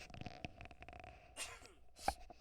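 A quiet sneeze bursts out near the end after faint breathing and small mouth sounds, close and fairly soft.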